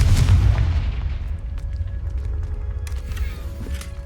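A Confringo spell explodes in the video game Hogwarts Legacy: a loud, booming blast at the start that rumbles and slowly fades, with faint game sounds continuing under the low tail.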